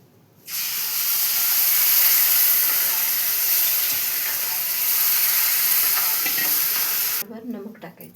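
Milk poured into a hot pan over roasted pulp and sugar, hissing loudly and steadily for about seven seconds before the sizzle suddenly drops away, leaving faint kitchen sounds.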